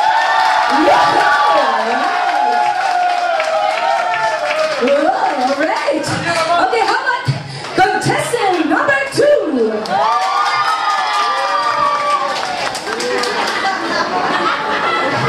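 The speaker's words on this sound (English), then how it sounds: "please shout and clap your hands!" A concert crowd at Platinum Music World in Singapore shouts, cheers and claps for contestant number one, loud whoops and screams rising and falling over scattered applause.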